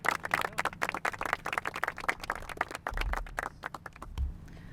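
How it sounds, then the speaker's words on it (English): An audience at a mayor's community program launch in San Isidro claps in a burst of brisk, moderate applause that thins out and fades after a few seconds. "So let's all give her a round of applause."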